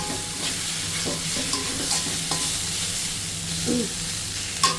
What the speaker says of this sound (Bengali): চিচিঙ্গা ভাজি করছি।